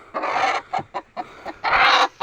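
A hen in a roosting spot at night, clucking up close in several short bursts and longer drawn-out cackles with brief pauses between them.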